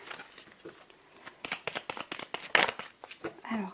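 Tarot cards shuffled by hand in a series of quick, close riffling bursts, building to a louder flurry near the end, with a faint voice murmuring lightly under the card sounds.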